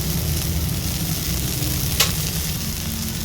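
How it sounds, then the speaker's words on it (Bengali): Masoor dal poured into a pan of fried dhenki greens, a steady loud sizzle and hiss of hot oil throughout, with a brief sharp spatter midway. "এবার এতে আমি ডালটা দিয়ে দেব"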